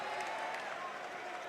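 Faint basketball arena crowd cheering and clapping during a game, a sustained wash of applause and voices heard from a distance.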